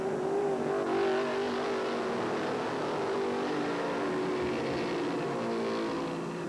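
GT-1 race cars from a 1980 SCCA national championship roar down a straight toward turn 1, a sustained engine drone that slowly fades as they pass into the distance.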